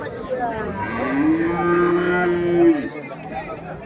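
A cow lets out a long, loud moo close by, rising then holding steady, over a low murmur of voices and crowd chatter at the Kundarapalli cattle market in Krishnagiri district, India.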